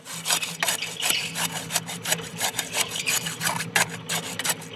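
Rebar rod is pushed repeatedly into wet concrete inside porch wall forms, giving rhythmic scraping, rasping strokes in quick succession, close and fairly loud, with no talking.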